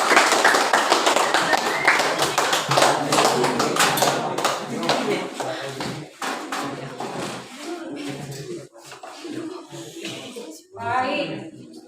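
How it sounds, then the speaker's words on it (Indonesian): Applause from a classroom group after a group presentation, a burst of many hands clapping with scattered taps and thumps, mixed with voices talking over it and thinning out toward the end. "Beri aplaus kepada kelompok 5"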